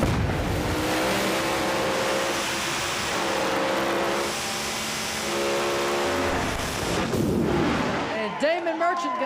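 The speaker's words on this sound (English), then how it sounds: "Nice drag race there." No-prep drag race cars from a Street Outlaws No Prep Kings event launching down the strip, a loud, continuous engine roar filling the air for several seconds before cutting off, with a voice faintly underneath.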